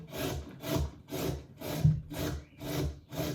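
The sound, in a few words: carrot being grated on a grater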